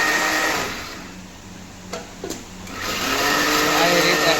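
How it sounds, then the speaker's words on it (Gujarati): A mixer grinder grinds broken pieces of bhakri for churma ladoo in a kitchen, a steady whirring motor drone that runs throughout with a brief dip and a couple of sharp clicks midway, voices faintly under it. "મિક્સરમાં દળાય છે."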